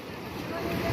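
Water waves on a cold river or lake along the Multan to Chitral route make a steady, broadband wash with wind buffeting the microphone, rising slightly louder toward the end.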